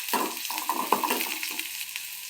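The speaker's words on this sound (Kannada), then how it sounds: "ಅದನ್ನು ಹುರ್ಕೋಬೇಕು" Green chillies fry in a pan with a steady sizzle, while a spoon scrapes and stirs in repeated strokes close by.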